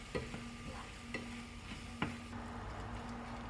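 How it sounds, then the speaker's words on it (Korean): Oat konjac rice being stir-fried in a pan over high heat, with a few sharp spatula scrapes and taps over a low steady sizzle and a faint hum, fairly quiet and close. "곤약밥은 물기가 많기 때문에 강불로 올리고 볶아줍니다."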